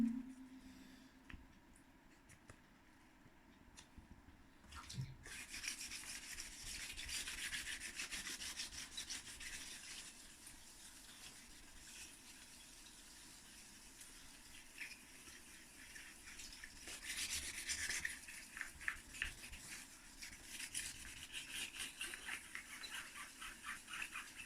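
Wet sanding of old dirt bike plastics with 2000 grit sandpaper: a steady, close scratchy rubbing with a watery edge that runs on continuously after a quiet start, with no talking.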